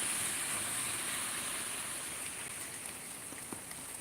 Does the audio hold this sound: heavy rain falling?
yes